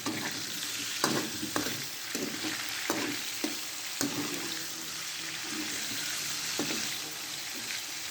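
Food fries in a pan with a constant close sizzle, broken by occasional clinks and scrapes of a utensil stirring. No one talks.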